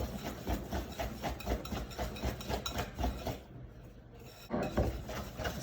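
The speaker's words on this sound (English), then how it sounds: "I've been whisking for about a minute." Whisk beating an egg mixture for apple cinnamon crumb muffins in a bowl, a steady run of quick close scraping clicks that pauses briefly before resuming.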